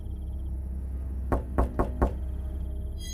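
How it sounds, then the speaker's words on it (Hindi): Four sharp knocks on a house window, the last three coming close together, loud and near over a low steady background hum with no voices. "अचानक घर की खिड़की पर किसी ने दस्तक दी।"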